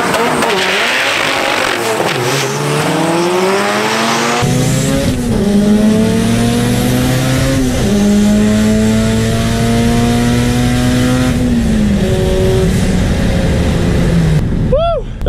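A Honda Civic races flat out at around 120 mph, its engine a loud, sustained drone climbing through the revs with a shift near five seconds, then holding high before easing off; a brief squeal-like sweep comes at the end.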